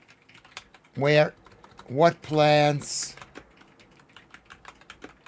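Keys clatter on a computer keyboard in short bursts of taps, with a person speaking between and over the typing at close range.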